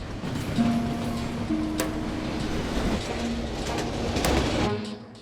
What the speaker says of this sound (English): The train was speeding.